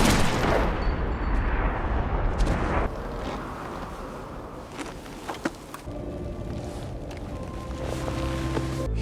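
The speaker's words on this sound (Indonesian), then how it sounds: "Eve menembaknya di kepala." Gunfire in a revenge film scene where a woman shoots a man in the head, heard as a dense, loud burst of impacts and rumble at the start, then sharp isolated cracks and clatter over a lingering dark background.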